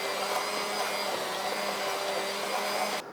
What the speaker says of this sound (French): Donc là, on va mixer donc, cette pipurade.